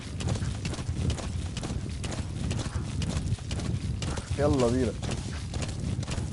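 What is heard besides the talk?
horse galloping in video game Metal Gear Solid V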